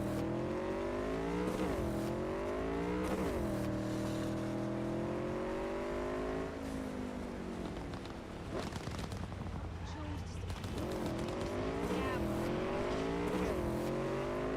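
A motorcycle engine ridden through the streets of Cyberpunk 2077, holding a steady loud drone that climbs and falls in pitch with each gear change and rev, under game music and noises.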